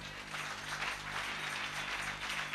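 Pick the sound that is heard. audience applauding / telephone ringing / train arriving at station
audience applauding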